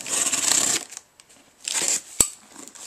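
A blade slices through the tape and cardboard of a shipping box while it is being opened. Two bursts of scraping and rustling are followed by a sharp, close snap. Short quiet gaps separate them.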